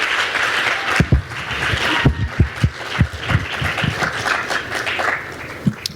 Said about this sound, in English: Round of applause for Taylor and Outro.